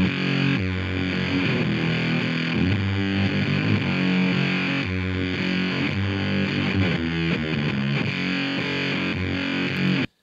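Heavily distorted electric guitar riff through fuzz pedals, a dense, loud, saturated wall of chugging notes with a hissing noise floor sustained underneath, running continuously without speech until an abrupt stop.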